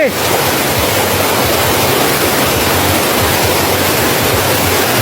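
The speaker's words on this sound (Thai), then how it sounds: "น้ำตกวังกาเหลือง น้ำตกวังกาเหลืองเนี่ยอยู่ในเขต อำเภอ ทาหลวงกับอำเภอชัยบาดาลของจังหวัดลบบุรี" Wang Kan Lueang waterfall in Lopburi, Thailand, roars as a loud, constant broadband rush of falling and churning water, close and unbroken throughout.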